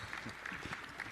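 Audience applause for municipal government work teams at the closing of a supplier fair, a brief steady burst of many hands clapping at moderate distance.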